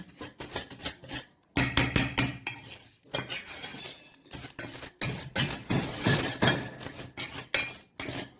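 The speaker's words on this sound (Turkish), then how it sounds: "Böylece bunları güzelce karıştıracağım." A metal spoon clinks and scrapes against a bowl as a barbecue chicken sauce with black pepper and lemon is stirred, in quick rhythmic bursts with a couple of short pauses, close and moderately loud.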